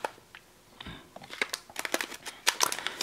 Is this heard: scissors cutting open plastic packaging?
yes